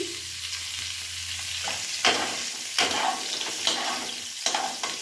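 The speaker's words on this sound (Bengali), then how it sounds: "রসুন কুচি হালকা ভাজা ভাজা হবে রসুনটা" Chopped garlic and chili frying in a pan, a steady sizzle with several sharp stirring scrapes at intervals, close and moderately loud, no talking.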